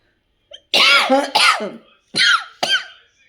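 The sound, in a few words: person coughing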